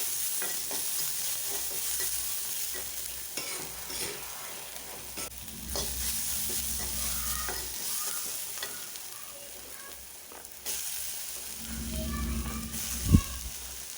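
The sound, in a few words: dried red chillies and onion sautéing in a pan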